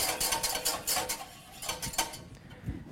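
Egg yolks being whisked in a saucepan off the heat, a metal whisk clattering and scraping against the pan in a quick, steady rhythm, close and fairly loud with no talk.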